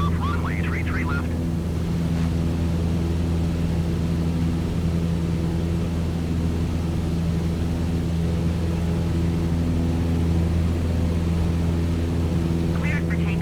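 An airliner in Microsoft Flight Simulator 2020 holds a steady, loud engine drone for takeoff from runway 33 left, with radio voices in the background.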